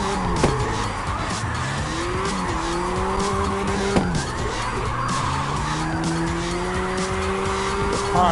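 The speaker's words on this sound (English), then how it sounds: "Tires are louder than the engine." Tires squeal loudly and almost continuously on a race car in the CarX racing video game, with long sliding skid tones that rise and fall over a constant engine drone.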